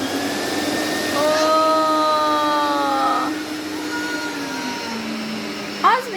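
Electric vacuum cleaner running indoors with a loud, steady whine, rising briefly in the middle and then easing, while children talk over it.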